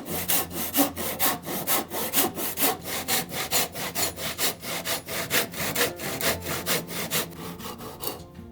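A carpenter saws through the top of a wooden hanging post during a house renovation, lifting a sagging lintel. The steady back-and-forth strokes come about twice a second, close and loud, and stop abruptly at the end.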